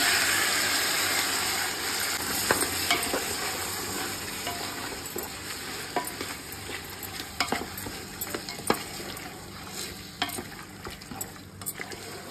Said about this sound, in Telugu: ఇప్పుడు పుదీనా వేసుకుంటాము. దీనికి ఫ్రై అయిన చాలు.